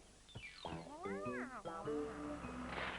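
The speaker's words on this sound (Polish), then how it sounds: "Grzeczny kotek." A cat meows several times in a row at a children's animated building-site show, rising and falling calls up close, with a high squeak near the end.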